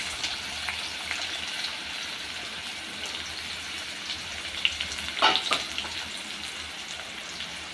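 Finely chopped onion frying in hot oil, a steady broadband sizzle with light stirring scrapes throughout and a brief louder burst of crackling near the end; no talking.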